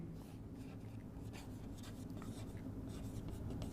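Chalk or marker writing on a board during a biology lecture, a faint continuous rubbing and scratching in short strokes over quiet room tone, no talking.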